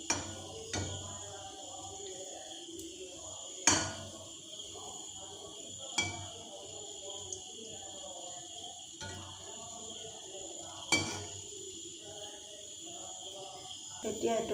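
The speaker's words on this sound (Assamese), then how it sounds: "এতিয়া মই ভাজিম।" Coconut ladoo frying over a low flame in hot oil makes a faint, steady sizzling hiss that runs throughout, with occasional soft clinks of a spoon and a quiet voice murmuring underneath.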